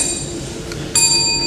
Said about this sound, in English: The candidates will hear a warning bell.